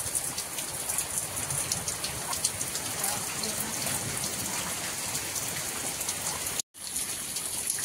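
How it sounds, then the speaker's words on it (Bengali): Heavy storm rain pours steadily and loudly close by, a dense continuous hiss of drops on surfaces with a brief dropout near the end, no talking. "ওই যে ঝড় বর্ষা আরম্ভ হয়ে গেছে।"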